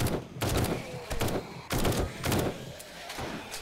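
Bursts of rapid gunfire ring out in a zombie survival shooter game, loud volleys repeating in quick succession with short gaps between them.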